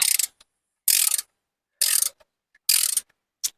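Ratchet torquing bolts on a 3.6L Pentastar V6 during timing work on a Grand Caravan: four loud bursts of rapid clicking, each about a third of a second long, spaced roughly a second apart, with a few short single clicks and quiet gaps between them.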